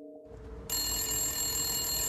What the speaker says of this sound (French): Le soir du 27 février 1933, à 21h10, le téléphone sonne chez Walter Zierpins.